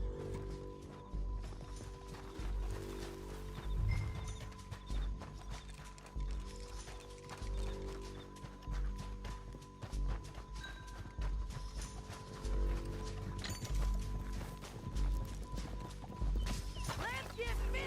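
Horses gallop in the video game Red Dead Redemption 2, their hooves clip-clopping in a steady rhythm over game music and ambience, with voices talking over it.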